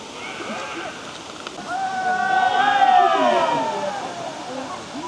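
A steady broadband rush of water pours at the waterfall in Quebrada Valencia nature reserve near Santa Marta, Colombia, with people talking and calling over it, swelling slightly louder midway.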